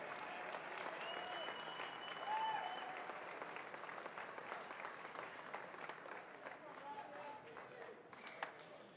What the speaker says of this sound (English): let's give one more round of applause for a great fight